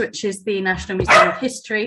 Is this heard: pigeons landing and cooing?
no